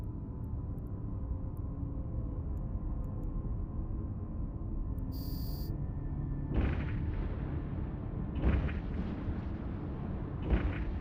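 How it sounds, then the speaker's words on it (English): A ship's primary weapon fires in the space game EVE Online, with deep booming blasts breaking in over a constant low rumbling hum, about three impacts spaced a couple of seconds apart. "I suggest you fire your primary weapon."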